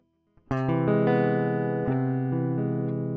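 A distorted electric guitar strums a chord and lets it ring, with a few restrummed or changed chords sustaining loudly.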